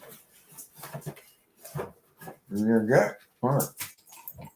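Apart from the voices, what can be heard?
pit bull dog whimpering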